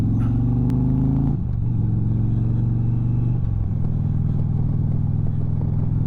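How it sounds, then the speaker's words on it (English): Indian Challenger motorcycle riding along a gravel road, a loud continuous engine drone with a shift in pitch partway through, steady and close without speech. "We got some gravel right up here. Got a decent amount of gravel kicking out a little bit there"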